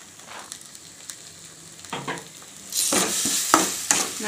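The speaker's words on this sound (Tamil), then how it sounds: "நல்லா ஒரு ரெண்டு நிமிஷம் இதுலேயே கிளறுங்க." Ground tomato masala paste for parotta salna being stirred in a hot pan, quiet sizzling and scraping at first that grows into louder frying and spoon strokes near the end, close and without speech.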